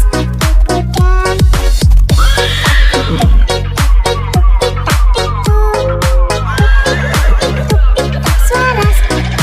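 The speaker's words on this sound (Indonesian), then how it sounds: "Tuk-tik-tak suara sepatu kuda" Horse hooves clip-clopping in a cheerful children's song about a delman ride, an even train of loud percussive knocks keeping time beneath bright instrumental melody.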